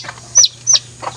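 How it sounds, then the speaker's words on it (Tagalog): Native chicks give two or three short, high, thin peeps, close by and alone over a faint low hum. "umiyak niyan sisiw mo"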